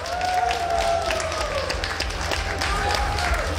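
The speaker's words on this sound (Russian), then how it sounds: "Алексей Мурашов, ваши самые бурные аплодисменты" Audience applause at a live stage event, a steady wash of many hands clapping throughout, loud and near, with a voice sounding over it.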